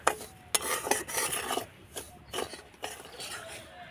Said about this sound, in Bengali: এবার আমি কড়াইয়ের মধ্যে দিয়ে দেব, দিয়ে একটুখানি নাড়াচাড়া করে সুজিটাকে ভেজে নেব।